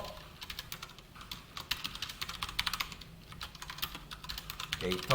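Keys clatter in quick, uneven bursts on a computer keyboard, close and fairly quiet, with a louder clack at the very end.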